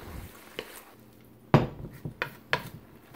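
Stir-fry vegetables with broccoli are stirred in a pan, giving a series of sharp utensil clanks and scrapes against metal over a faint sizzle, irregular and close.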